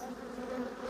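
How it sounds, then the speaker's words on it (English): Honeybees hum on a hive frame as young bees emerge from the cells, a soft steady drone heard up close and unbroken through the moment. "Got some bees emerging from this frame."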